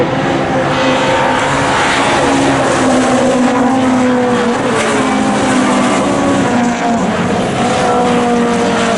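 A pre-1966 under-2-litre Ford Cortina touring race car roars at close range, its engine loud and sustained with rising and falling rasping pitch as it is driven hard on the circuit.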